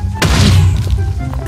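TNT detonates on ice in Minecraft, giving a single heavy, boomy blast that fades into a short rumbling tail.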